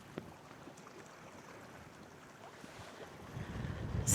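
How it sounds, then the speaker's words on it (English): Strong wind gusting across a rocky Scottish shoreline, a steady low rumble of buffeting on the microphone that swells louder toward the end, with faint sea in the background and no speech. "that wind's just unbearable."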